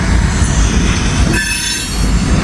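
A heavy grain train rolls by close and loud, its wheels screeching in a high, sustained squeal over a deep rumble of railcars.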